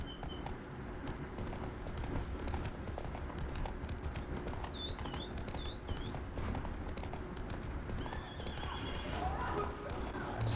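Roach the horse galloping in The Witcher 3, a fast, continuous clip-clop of hooves with a brief neigh, under game ambience and a player speaking.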